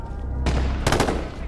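Two loud close M40 sniper rifle shots in a multiplayer shooter game, each a sharp blast with a brief ringing tail, the second following about half a second after the first.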